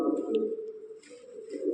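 Punjabi Malvai pigeons coo close by in a soft, continuous low warble that rises and dips, with faint rustling above it.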